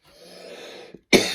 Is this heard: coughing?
yes